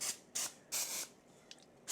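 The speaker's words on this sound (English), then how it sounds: "Okay, spray your tin. Spray it." Cooking spray hissing into a baking tin for gluten-free banana bread, several short close bursts in an uneven rhythm, with quiet gaps between them.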